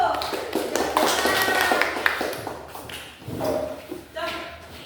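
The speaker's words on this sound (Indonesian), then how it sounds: "Kasih tepuk tangan bawah dulu." A class of students applauds during a lesson on insect metamorphosis, with a flurry of claps and tapping mixed with room shuffling and voices.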